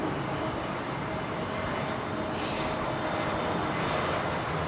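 An old Boeing 747 with its original Pratt & Whitney JT engines roars steadily at London Heathrow Airport, a loud continuous jet rush that swells slightly midway.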